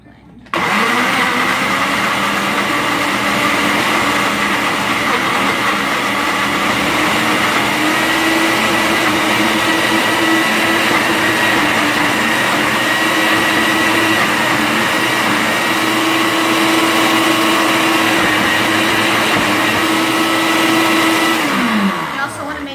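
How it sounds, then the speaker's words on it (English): A blender runs continuously blending avocado sauce, a loud steady whirring drone with a sustained motor tone that starts abruptly and holds for over twenty seconds before cutting off at the end. "So let's blend this sauce together."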